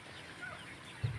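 A brief, low cluck from a gray rooster on a small farm, single and fairly close, over soft background murmur and faint bird chatter.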